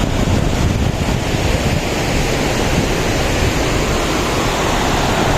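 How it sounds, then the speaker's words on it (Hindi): Loud, continuous rushing of river water at Jatlan Head, Mirpur, Azad Kashmir, fills the clip, a dense steady roar with wind-like noise and no voices. "एक तरफ पहाड़ियाँ आज़ाद कश्मीर की और दूसरी तरफ ये बहता हुआ पानी।"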